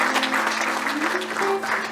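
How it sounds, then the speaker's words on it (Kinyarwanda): Wedding guests clap together in a brief burst of applause, steady and fairly close, with a murmur of voices underneath. "Reka twongere Imana amashi n'impundu dushimire Imana."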